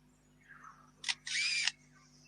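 A voice imitates a camera: a short burst of clicking followed by a longer buzzing whir, like a motor drive firing.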